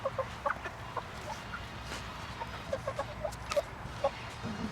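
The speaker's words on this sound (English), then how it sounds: "we'll do introductions of each of the chickens" Chickens in a coop clucking softly and intermittently, short close calls scattered over a quiet background hum with no voices.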